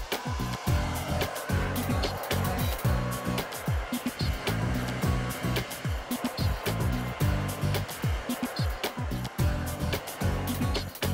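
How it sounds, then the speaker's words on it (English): A CHI Touch hair dryer blows steadily and loudly while rough drying hair, its broadband airflow whoosh holding constant throughout with brushing and handling noises fluttering underneath. "After you set your settings, begin to rough dry."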